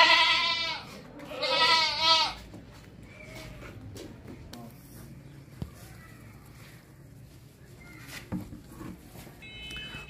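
A male goat bleats loudly twice near the start, wavering cries, followed by quieter shuffling and faint rustling around the animal.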